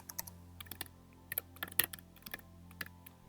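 Computer keyboard clicking as Python code is typed, quick irregular keystrokes close up and fairly quiet, with no speech.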